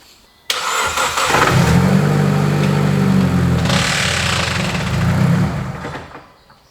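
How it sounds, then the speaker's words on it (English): A car engine cranks and catches, then runs at a steady, loud idle for several seconds before shutting off and fading, heard close up in a car that later develops gearbox trouble. "Quick turn over the engine"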